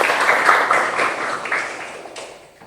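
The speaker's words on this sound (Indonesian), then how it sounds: "Tepuk tangan buat kita semua." A classroom of students applauds together, a dense steady patter of many hands that holds for a couple of seconds and then tapers off, moderately close with a roomy sound.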